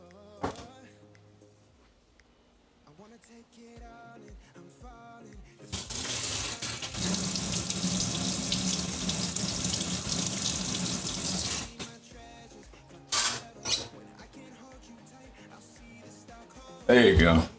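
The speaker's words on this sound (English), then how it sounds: "Let me put some more warm water." Warm water runs from a tap into a sink in a kitchen while Brazilian brigadeiro Easter eggs are being made, a steady gushing stream lasting about six seconds between quieter clinks and handling noises.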